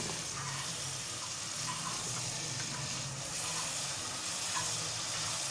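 Spice masala sizzles steadily in a pan over a medium flame while cooking for chanay ki dal, a continuous close, even frying hiss with faint stirring and no talk.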